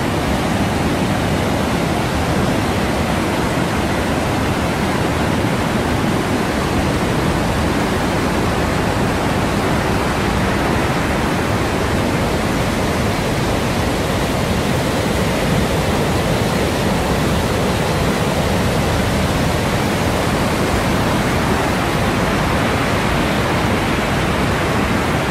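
The cascades of Baume-les-Messieurs in the Jura, France, swollen with unusually high water, roar as a loud, steady, unbroken rush filling the whole scene with no voices.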